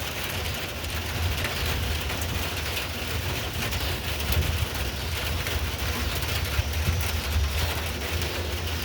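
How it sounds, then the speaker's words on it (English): Steady outdoor rain with light wind, a continuous hiss of drops on surfaces and a low, gentle rumble of distant thunder underneath. "It's got rain, a little wind, and a gentle rumble of thunder."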